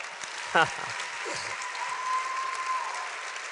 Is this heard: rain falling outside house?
no